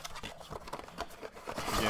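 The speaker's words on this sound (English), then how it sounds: "So, I'm going to open the box, shuffle up the packs a little bit." Foil trading card packs from a box of Leaf Flash football cards are opened and shuffled, giving dense crinkling and rustling with scattered slaps of packs. The sound stays close and steady for the whole stretch, with no voice over it.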